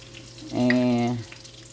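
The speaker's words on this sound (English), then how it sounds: "I have my Dutch oven here, and I'm gonna add some oil to it" Oil poured into a Dutch oven for gumbo makes a short, loud sizzle and gurgle of about half a second, close by over a quiet kitchen background.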